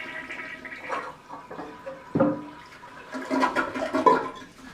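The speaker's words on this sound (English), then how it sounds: "we actually flush the toilet" A toilet flushes: a gurgling rush of water swells, drops back, then surges again into a noisy draining swirl.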